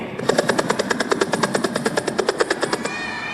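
A voice imitates a helicopter with a fast, steady run of about twenty chopping pulses that lasts nearly three seconds, loud and close, in a children's storytelling session.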